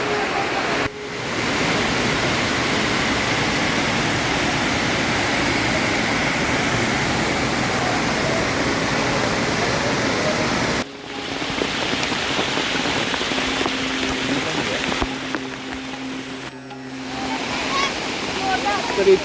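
Heavy monsoon rain pours on a hill trek near the Tungareshwar temple, a loud, dense, continuous roar of water with brief gaps where the sound cuts and returns, and no speech.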